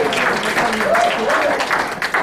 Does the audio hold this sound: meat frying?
no